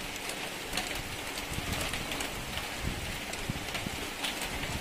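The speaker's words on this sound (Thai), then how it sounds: "นี่ฝนมันสาดดีมากเลยนะคะ" Rain falls steadily at an elephant camp café in Chiang Mai, a constant wash of splashing noise with occasional sharper drops close by.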